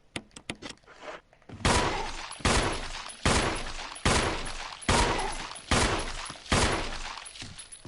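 Gunfire in a Resident Evil game set in a mansion: a few quick sharp shots, then a steady series of about seven loud, booming blasts roughly a second apart, each trailing off in a long echoing decay.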